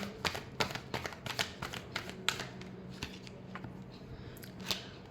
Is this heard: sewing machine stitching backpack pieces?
no